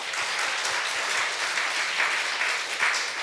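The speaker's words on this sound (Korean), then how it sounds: "우리 박수 한번 하는 거." A church congregation applauds together during a sermon on Israel, a steady wash of many hands clapping that fills the room at moderate loudness and continues without pause.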